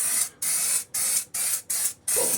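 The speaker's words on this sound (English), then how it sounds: "of this splatter spray" Splatter spray paint hisses from an aerosol can onto a lathe chuck handle part held by magnets in a disposable vise, in six short, loud bursts separated by brief pauses.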